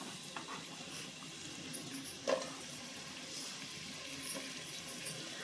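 Chopped onion dropped into hot oil already tempered with curry leaves gives a faint, steady sizzle and light crackle, with a brief clatter partway through.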